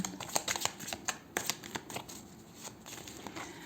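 Tarot cards being shuffled repeatedly, a close, soft papery riffling and slapping in quick uneven strokes with no talk.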